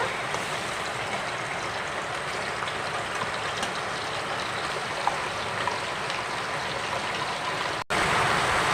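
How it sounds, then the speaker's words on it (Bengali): Heavy rain pouring down, a dense steady rushing hiss that fills the space without pause, briefly cutting out near the end before resuming just as loud. "দেখো প্রচণ্ড বৃষ্টি হচ্ছে"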